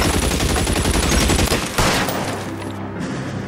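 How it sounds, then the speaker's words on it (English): Sustained video-game gunfire in LA Noire, a dense, loud fusillade of rapid overlapping shots that continues for a second and a half, then a sharp burst and scattered shots thinning out toward the end. "Oh, let's do some of this janky shooting then."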